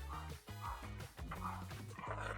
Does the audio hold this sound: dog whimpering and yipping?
yes